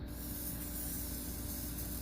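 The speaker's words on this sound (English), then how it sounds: "so it's spraying at an angle" A Rust-Oleum spray paint can sprays yellow and green paint in one continuous, close, loud hiss with no break.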